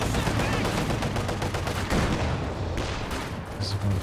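Dense, continuous battlefield noise from a Company of Heroes 2 3v3 match, with machine-gun fire and explosions blending into a loud, unbroken roar.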